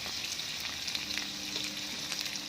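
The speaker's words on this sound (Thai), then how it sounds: "พอใส่กุ้งลงไปนะครับ ก็ ผัดกุ้งกับกระเทียมนะครับ" Shrimp and garlic stir-frying in a hot pan, a steady close sizzle with occasional scrapes and stirs running throughout, no talking.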